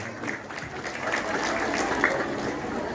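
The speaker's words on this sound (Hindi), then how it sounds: "पुनः सम्मान जोरदार तालियां।" Hearty applause from an audience at a devotional gathering honoring saints, a steady wash of clapping filling the whole stretch, moderately loud and evenly sustained.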